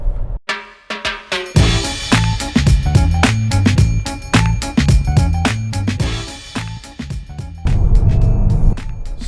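An MG HS family car sounds a warning chime. The bongs are sharp and repeat in a fast, insistent series, loud and close inside the cabin, with a continuous tone near the end.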